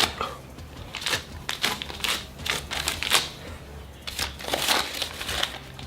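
Paper money bills being peeled apart and handled up close, giving a series of crisp crinkling and rustling bursts spread irregularly across the stretch with no voices.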